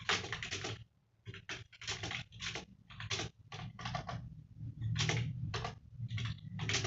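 Someone types a line on a computer keyboard in Notepad, producing close, quick bursts of key clicks in short rhythmic runs separated by brief pauses.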